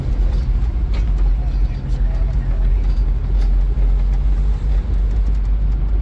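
Engine of a car driven by someone at the wheel for the first time in 20 years, a steady low rumble with a stiff throttle, continuous and close, with people talking over it.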